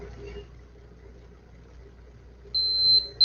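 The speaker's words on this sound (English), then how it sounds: "Hear that beep?" A steady high-pitched electronic beep from a nearby device, likely a glucose meter, starts about two-thirds of the way through and holds for under a second before stopping, over faint low room hum.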